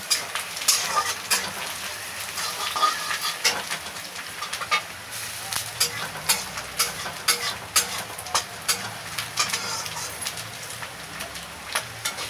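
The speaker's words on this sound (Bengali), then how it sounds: "আদা রসুন দিলাম। একটু নাড়াচাড়া করে আদা রসুনটা একটু লাল হয়ে গেলে" Ginger and garlic sizzle steadily in a hot pan, with a spatula scraping and stirring in a regular rhythm of soft clacks over the continuous frying hiss; no one speaks.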